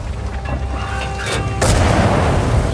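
A tank cannon fires in World of Tanks, one deep booming shot that stays loud and rumbling to the end, over a low game engine drone, no talking.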